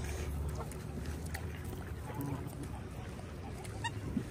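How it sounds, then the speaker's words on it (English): A large flock of geese and ducks in a residential community, honking and quacking steadily nearby and at a distance, with a voice talking over the birds. "A lot of geese, duck."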